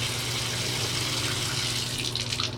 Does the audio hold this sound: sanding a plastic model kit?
no